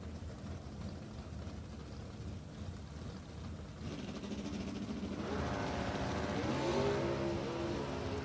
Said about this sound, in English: Wheels up launch for Wagner.